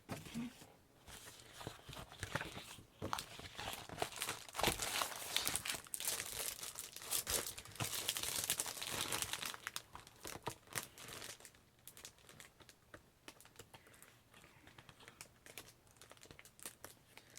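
Sheets of craft paper handled and crinkled while being sorted for a scrapbook page, a close, continuous rustle with bursts of louder crumpling and crackling. A person talks quietly at times.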